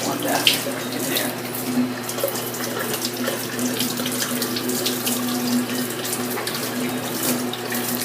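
Steady running tap water splashing into a sink as vegetables are rinsed of dirt for chicken stock, a constant close hiss with no talking.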